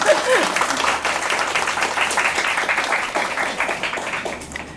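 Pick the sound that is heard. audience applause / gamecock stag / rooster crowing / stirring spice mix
audience applause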